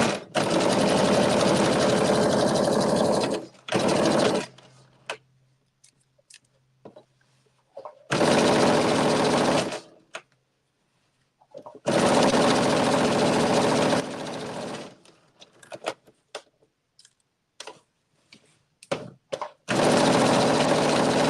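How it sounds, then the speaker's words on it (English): Sewing machine back stitching slowly around the bottom of a pocket, loud bursts of rapid mechanical whirring separated by quiet pauses, with scattered small clicks and handling sounds between runs. "I'm going to back stitch. Around, go slow around the bottom of the pocket."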